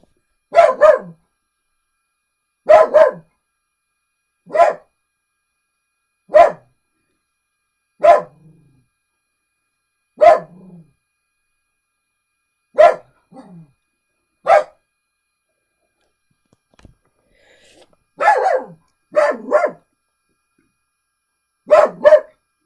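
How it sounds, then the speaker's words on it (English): Dogs barking indoors at a distance, about a dozen sharp single and double barks spaced a couple of seconds apart, with short quiet gaps and a few softer whimpers between them. "that's the dogs."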